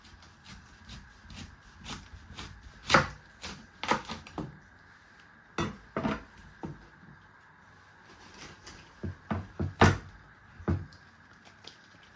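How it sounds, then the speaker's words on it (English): A knife chopping the end off a red cabbage on a cutting board in a home kitchen, with a series of irregular sharp thuds and crunches, some loud and close, separated by quieter pauses. "You first want to chop your end off."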